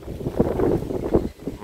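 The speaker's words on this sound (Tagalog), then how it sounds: "Lakas ng hangin, sa lakas ng hangin, pwede nga." Strong gusts buffet the microphone in uneven low rumbling bursts while a kite is being flown outdoors, with no clear talk over it.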